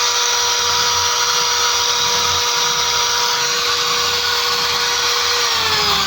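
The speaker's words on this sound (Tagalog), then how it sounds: "Kapag kapag pinaandar natin yung grinder." Electric grinder powered through a solar inverter at 12 volts, whining steadily and loudly without a break, its pitch dipping slightly near the end.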